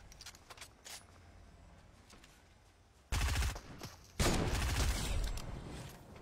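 Gunshots crack in a Fortnite match, a faint scattered few early on, then two loud dense bursts of rapid fire near and alone.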